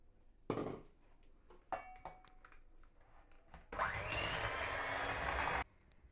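An electric beater whisks eggs and sugar for a carrot cake, with a few clinks and knocks followed by a steady whirring hum that runs for about two seconds and then cuts off.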